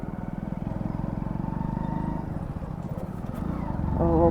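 A Hero Splendor motorcycle engine chugs at a steady idle nearby with a rapid, even single-cylinder pulse, then revs up slightly at the end.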